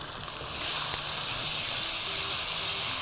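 Ground spices frying in hot oil in a pan while cooking aloo chana dal, a steady close hiss with faint crackle running throughout.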